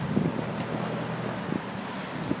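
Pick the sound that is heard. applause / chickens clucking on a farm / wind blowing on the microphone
wind blowing on the microphone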